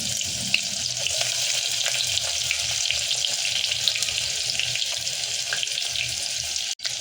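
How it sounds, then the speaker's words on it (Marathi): Onion and garlic drop into hot oil in a pot, giving a steady close sizzle and hiss that runs throughout, with a brief thump near the end. "तर इथे आपलं तेल तापलेलं आहे, तर आपण कांदा आणि लसूण तेलात टाकूया."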